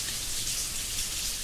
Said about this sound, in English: just watching the blanket of rain dropping endlessly